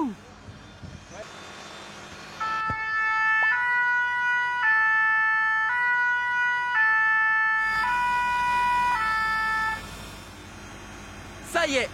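A loud two-tone fire truck siren wails back and forth steadily for several seconds over a low rumble, then cuts off abruptly.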